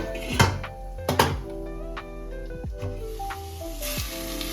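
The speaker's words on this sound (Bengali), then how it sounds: "2 থেকে 3 মিনিট মতন হালকা করে ফ্রাই করে নেব।" Potato and papaya pieces frying in a pan for a chicken stew: a steady low sizzle under a few sharp utensil knocks and clanks near the start.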